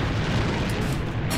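A grenade explosion in the AVA shooter game, a loud, dense roaring blast that fills the whole moment with rumbling low-end noise and no pause.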